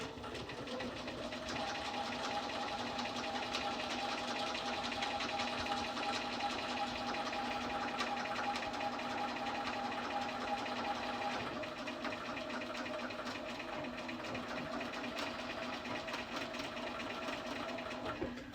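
A sewing machine stitches steadily down the back of thick fabric about a quarter inch wide, a continuous close mechanical whir with a faint higher tone running through it, no voices.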